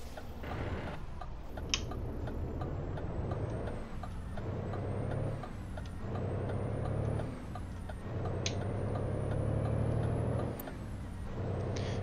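A heavy truck engine in American Truck Simulator drones steadily, its pitch rising and falling with gear changes, broken by sharp hissing bursts of air brakes.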